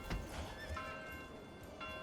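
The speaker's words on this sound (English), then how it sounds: "Horses are coming in." Horses neigh and hooves clop on the ground in Manor Lords, a medieval town-building game, with whinnies rising over a dense, steady ambient bed of hoof and crowd noise and no voices.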